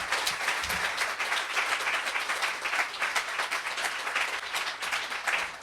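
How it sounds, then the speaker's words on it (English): An audience at a fellows and mentors literary reading applauds, a dense, steady wash of many hands clapping at moderate level with no voices over it. "Please give another round of applause to all our readers tonight"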